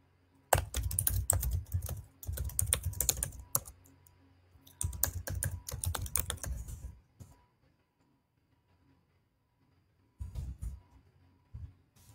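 Keys clatter on a computer keyboard while a hashtag is typed in, coming in three dense bursts of rapid typing separated by pauses, with one short final burst after a stretch of near silence.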